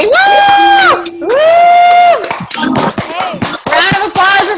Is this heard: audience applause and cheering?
yes